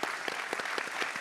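A keynote audience applauds in a dense, continuous patter of many hands, steady and moderately loud throughout, with no voices on top.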